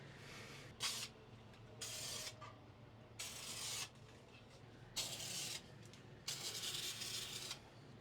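An aerosol can sprays in about six separate hissing bursts, each lasting roughly a second, with brief quiet gaps between them.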